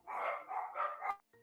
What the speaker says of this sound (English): The dogs are not happy about life.